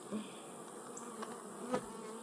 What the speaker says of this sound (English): Bees will take care of themselves.